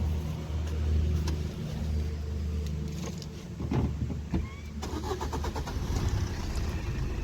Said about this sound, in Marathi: गाडी आपण इंजन स्टार्ट केलेला आहे